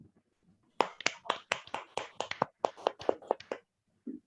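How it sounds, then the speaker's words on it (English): A small meeting audience applauds a Toastmaster's achievement, a sparse round of individual claps from a few people, close and distinct, lasting about three seconds before stopping. "Please a big round of applause for her."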